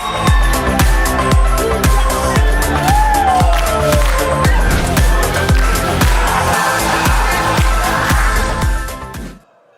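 A crowd cheers and applauds loudly at a university quiz contest semifinal, the steady roar running through most of the clip over a rhythmic beat before cutting off abruptly at the end.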